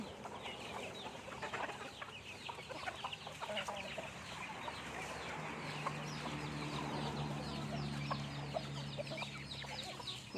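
Fighting-breed chickens cluck repeatedly in a busy farmyard, several birds overlapping in short irregular calls, with a lower steady hum underneath and no talk.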